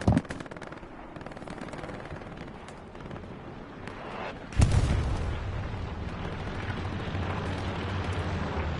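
Artillery fire in Hell Let Loose, a World War II shooter: distant rumbling gunfire gives way to a heavy, booming blast about halfway through, followed by sustained rolling explosions and chatter of weapons.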